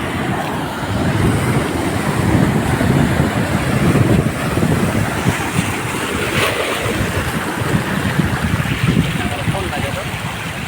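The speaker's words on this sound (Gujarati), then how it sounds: "દરિયા આવી ગયા" Continuous rushing sea waves with wind buffeting the microphone, a loud steady roar of surf throughout.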